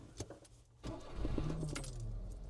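Keys jangle briefly, then a 1998 Suzuki Carry 4x4 kei truck's small engine cranks and catches, settling into a steady close idle rumble.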